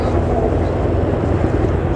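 A helicopter flying a display at the RAF Cosford airshow makes a loud, steady, low rumbling roar that holds without a break.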